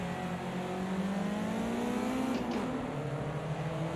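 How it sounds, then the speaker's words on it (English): A race car engine accelerates in a wet-weather racing video game, a steady droning tone climbing in pitch as it revs, moderately loud and continuous with no talk. "I forgot the engine's nowhere near as loud in this car"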